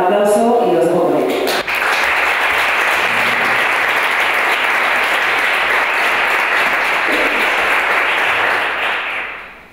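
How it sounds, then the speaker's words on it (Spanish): An audience at a Spanish-language literary talk bursts into sustained applause that fills the room for about eight seconds, following a brief moment of speech at the start, then fades out at the end. "muchas gracias a Ana, un aplauso y os dejo por ahí."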